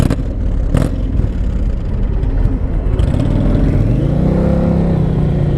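A 2020 Indian Challenger motorcycle's engine is started and revved, a loud, steady rumble close by with a couple of sharp clatters early on, then rising revs that sweep upward toward the end.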